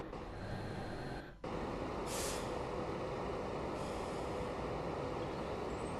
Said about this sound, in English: I just applied emergency. So, okay, it's a good proof. When you applied emergency, the train comes to halt.